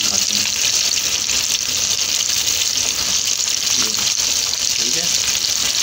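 Fish fries in hot oil until brown and crispy, a dense, steady sizzle that stays loud and continuous without a break.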